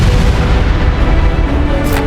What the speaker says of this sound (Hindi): एक बहुत बड़ा धमाका हुआ